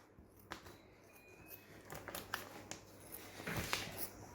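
Scissors cut through the plastic liner of an Ecotact Troiseal bag along its dotted lines, giving a series of quiet, close snips and crinkly rustles with a few sharper cuts spread over several seconds.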